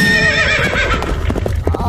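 A donkey gives a loud, drawn-out braying call up close, followed by a quick series of hoofbeats clopping as it moves off, with no talking.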